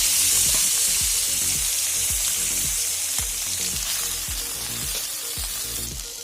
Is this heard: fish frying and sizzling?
yes